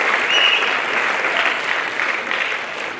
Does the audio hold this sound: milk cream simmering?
no